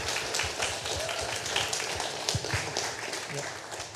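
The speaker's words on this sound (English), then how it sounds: "We get a round of applause for the panelists." Audience clapping for a startup growth panel, a dense patter of many hands at moderate level with some louder nearby claps and a few thumps, continuing evenly throughout.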